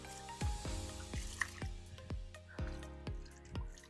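Water from a drum is poured around the base of a pineapple plant, giving a series of soft dripping splashes in an uneven rhythm, close by and fairly quiet.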